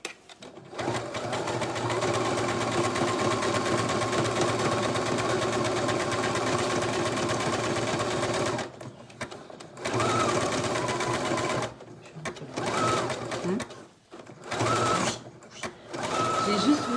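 A sewing machine runs a zigzag stitch along a fabric bag, humming loud and steady for several seconds, then stops and restarts in shorter bursts.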